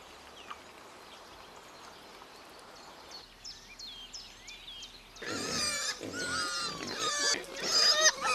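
Wild sow grunting in a wet alpine valley: a rough, rising run of low grunts and snorts builds loudly near the end, with brief high bird chirps earlier over a steady background hiss.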